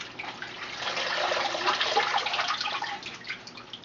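Tamale corn husks lifted out of a pot of soaking water, with water dripping and trickling back in a continuous wet patter that swells and fades, close by with no talk.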